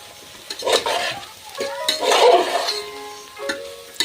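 Bharangi leaf vegetable being stirred in oil in a pan over a wood-fired stove, with scraping strokes and soft sizzling in bursts, moderately loud and close, with no voices.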